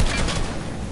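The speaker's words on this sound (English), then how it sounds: "Let's fire a rocket at it" A rocket launches in a video game with a loud, dense burst of low thumping and blast noise that fills the whole second, close and without pause.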